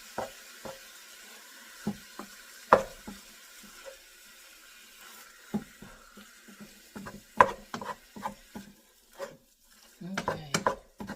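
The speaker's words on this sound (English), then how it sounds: "Now I'm going to go in and get it broken apart a lot more so that it can start cooking evenly." Meat cooking in a pan is broken apart and stirred, giving scattered utensil scrapes and knocks over a faint sizzle, with the clatter growing denser toward the end and no voices.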